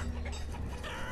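Chickens clucking in the village-building video game Banished, a brief run of soft, close clucks over a low background hum.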